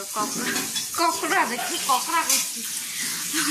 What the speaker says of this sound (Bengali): করলা ভাজছি